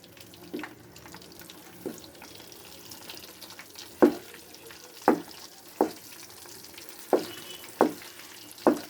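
Chickpea paste for halwa stirred and frying in a pan, with a low sizzle throughout and about eight distinct scraping stirs at a steady pace, the later ones louder and closer.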